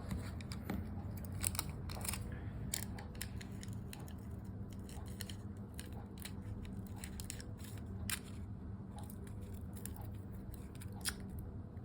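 Scissors snip through paper being cut to size, a series of crisp close clicks and slicing crunches at an irregular rhythm, quiet and alone over a faint room hum.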